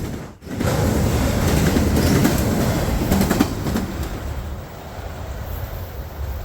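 Freight train passing close by, hauled by SD40-2 diesel locomotives: a loud, sustained rumble and roar of engines and rolling cars with clanking wheels that eases slightly toward the end, no speech.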